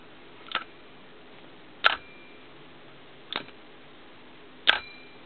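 Bail of a Shimano Baitrunner 8000D spinning fishing reel being flipped, four sharp separate metallic clicks spaced more than a second apart, close and clear against near silence.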